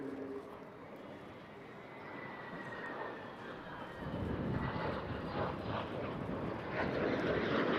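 A British jet trainer aircraft roars overhead at the Eastbourne International Airshow, a distant engine rumble that swells louder in the second half.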